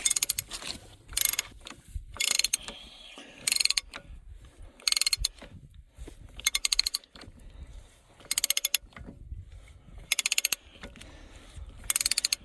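A wrench tightening a nut ratchets in repeated bursts of sharp metallic clicks, with short pauses between each run of strokes; close and fairly loud, with no talking.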